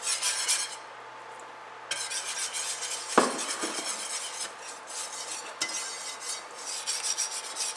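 A whisk scrapes and stirs a flour roux in a pot for a Cajun meatball stew, giving a steady close rasping swish that keeps going without pause, with one sharper metallic clink partway through.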